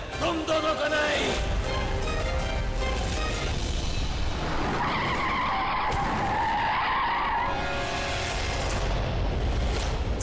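Tires screech loudly as a car skids on a big road, a sustained harsh squeal that swells midway amid dense dramatic background sound with no pause.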